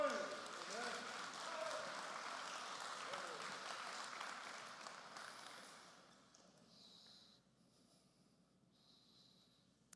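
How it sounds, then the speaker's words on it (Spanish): A church congregation applauds during a Spanish-language sermon, a soft, fairly distant patter of clapping that fades out over several seconds, leaving faint background noise. "Denle un aplauso al Señor."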